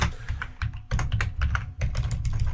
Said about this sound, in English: sorry, my typing is off today